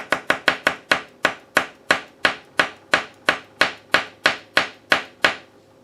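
Rapid series of about eighteen sharp, evenly spaced taps as a mixture of epoxy and scrap brass shavings is tamped down, each knock crisp and close with a short decay, no voices.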